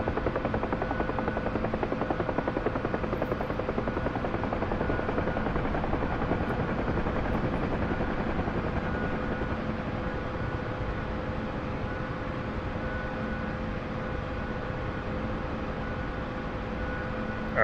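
A helicopter in a video game gives a steady dense rotor roar with a constant hum, holding at an even moderate loudness for the whole stretch with no voices over it.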